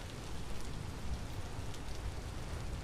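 Rain pours steadily in the video game Vintage Story, a dense continuous hiss of drops on the ground with a low rumble underneath, close and even throughout, no voices.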